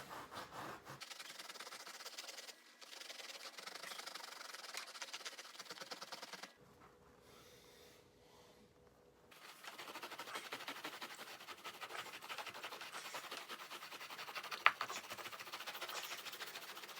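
A serrated knife saws back and forth through a paper towel roll, a close, rough, rasping scrape that pauses briefly midway before resuming steadily, with no talking.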